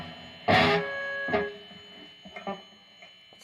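Electric guitar played through a Marshall DSL40 amp with reverb turned fully up: two loud distorted strums ringing into a wash of tail, followed by a few quieter picked notes, alone with no talking.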